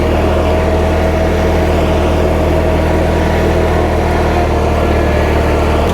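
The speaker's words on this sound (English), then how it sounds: "This is the oldest farm tractor that we own, a" A 1943 Allis Chalmers B farm tractor engine runs steadily at a show, giving a loud, close, continuous low engine drone with no speech over it.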